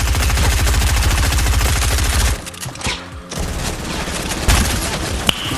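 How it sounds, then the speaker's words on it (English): Video game gunfire: a dense rapid automatic burst, loud and close, breaking off partway through, then scattered shots and a sharp crack near the end. "A lot of bullets."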